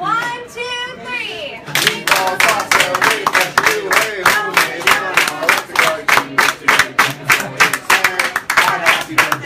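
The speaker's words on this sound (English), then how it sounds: "You can all help us by clapping along with us on the count of three." A restaurant crowd at Buca di Beppo claps steadily in time to a birthday song, loud and close, with brisk rhythmic hand claps after a brief opening of voices.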